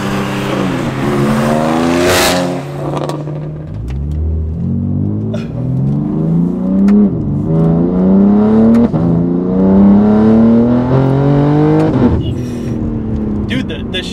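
A BMW G80 M3 with an XHP stage 3 tune and ZF8 automatic roars loudly from inside the cabin, its engine note climbing through several quick gear changes while people talk over it.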